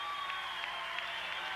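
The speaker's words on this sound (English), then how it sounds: "Big applause for both wrestlers." A high school wrestling championship crowd applauds at 1999 nationals, a steady wash of distant clapping filling the arena at moderate volume.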